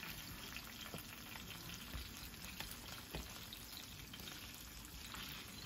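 Chicken pieces browning in a hot pan for Jamaican brown stew chicken, a continuous soft frying sizzle with small crackles and pops scattered throughout, heard alone.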